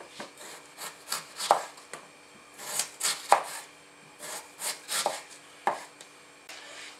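A sharper kitchen knife chops tomato and potato on a cutting board: quiet, irregular bursts of crisp cuts and scraping strokes, close up and heard alone without any voices.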